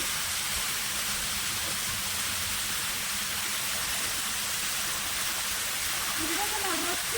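Water rushes and splashes from a pipe into a tank in a steady, unbroken stream, a dense hissing pour that stays close and even throughout.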